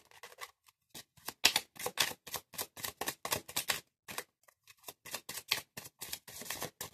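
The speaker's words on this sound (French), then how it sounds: "Je vais étaler les cartes et je vais en tirer 5." Tarot cards are shuffled and spread out on a surface, giving a close series of crisp riffling and snapping bursts in an uneven rhythm separated by short silences, with no speech.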